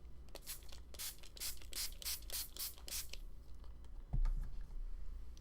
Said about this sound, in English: And now this time we are going to spritz again.